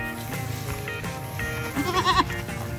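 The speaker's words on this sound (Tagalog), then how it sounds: "Ito ang mga kambing, mga gagmay." Young goats bleating, their cries rising in a cluster of wavering calls near the end, over a steady background of farmyard noise.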